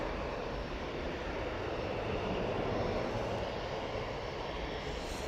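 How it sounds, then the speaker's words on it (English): An EasyJet jet airliner on its takeoff roll down the Manchester Airport runway, a continuous broad engine roar, fairly distant and even, swelling slightly midway, with no talking. "have a look at that EasyJet that's now on the roll"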